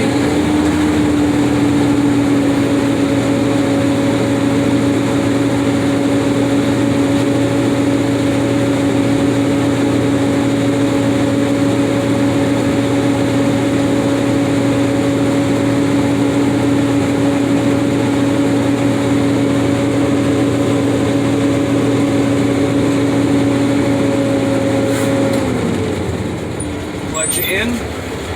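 A tractor-trailer's diesel engine idles steadily during a pre-trip inspection, building air brake pressure toward 120 psi, a loud constant rumble with a droning tone that fades near the end.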